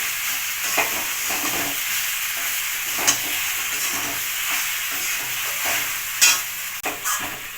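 Pasta tossed with chicken masala in a frying pan sizzles steadily while a spoon scrapes and stirs, with a few sharper clinks against the pan; there is no talk.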